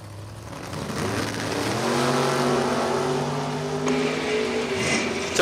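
Drag racing door cars, including Jeff Pasquarella Sr.'s Beretta and Tommy Zimmerman's 1968 Camaro, launching at a bracket race at Numidia Dragway: loud, sustained engine roar rising in pitch as the cars pull away.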